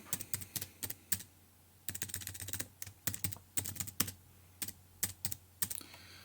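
Keys clatter on a computer keyboard in quick irregular bursts of taps with short pauses between, close and fairly quiet, while a table is filled in in a document.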